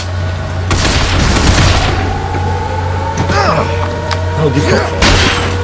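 Powerful gun in the Binary Domain video game firing in loud bursts, with sharp blasts and booming hits over a low steady hum, while someone talks between shots.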